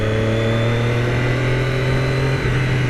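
A 2017 Triumph Daytona 675 sportbike on a fast highway run, its engine holding a steady, loud drone with a strong low hum and wind rush throughout, nearly unchanging in pitch.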